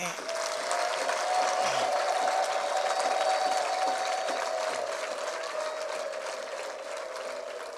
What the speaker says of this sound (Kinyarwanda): Iya mbere mu mpere Yesu amashyi ko yazutse.